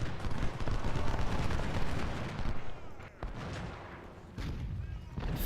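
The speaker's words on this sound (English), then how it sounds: "oh, they're firing on them instead" Massed gunfire and cannon in Ultimate General: Civil War during the First Bull Run battle: rolling volleys with sharp cracks, a brief lull, then renewed firing at a moderate distance.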